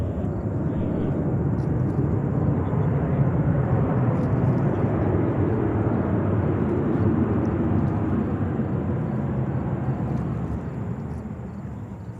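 A jet airliner takes off at JFK airport in New York, its engines producing a loud, broad, sustained roar that holds steady and then eases slightly toward the end.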